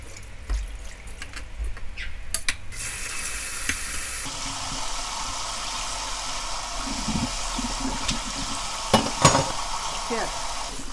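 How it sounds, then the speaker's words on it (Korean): Boiled sweet potato stems are rinsed in cold water, with running water splashing steadily and getting louder partway through, alongside handling and sloshing noises close by. "그리고 이제 찬물에 헹궈."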